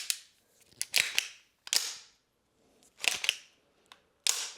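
A softair gun fires a handful of sharp, dry clicks at irregular intervals, close by and crisp, with short silences between shots and no talking.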